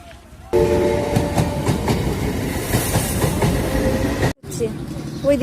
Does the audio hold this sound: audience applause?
no